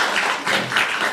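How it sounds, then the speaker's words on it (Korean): A church congregation applauds for about a second, a steady, fairly loud wash of clapping with no voices over it. "박수 한번 해주세요"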